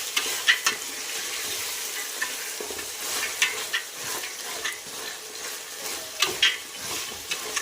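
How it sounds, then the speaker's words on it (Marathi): Green peas sizzle and fry in a pan while being stirred for pea rice, a steady crackling hiss with sharper scraping stir strokes popping up every second or so, close and fairly loud with no talking. "वटाणे घालून घेऊया आणि छानपैकी असं फ्राय करणार आहोत"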